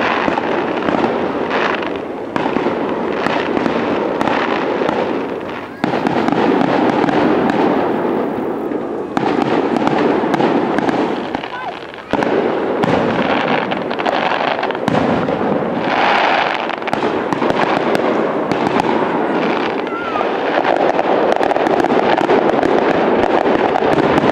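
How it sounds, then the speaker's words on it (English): An Independence Day fireworks display in Colebrook on the night before the Fourth of July, loud continuous booming and crackling bursts overlapping for the whole stretch, with a few brief lulls. "with the town of Colebrook celebrations beginning the night before with a fireworks display."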